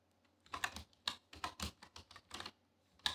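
Typing code on a computer keyboard, a crisp series of separate keystrokes in irregular bursts, close and fairly quiet, with no talking.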